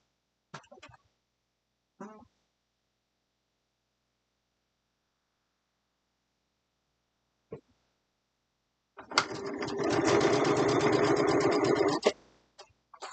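A sewing machine stitching a braided table runner block, a single steady burst of motor whir lasting a few seconds, preceded by a few brief faint clicks and handling sounds amid quiet.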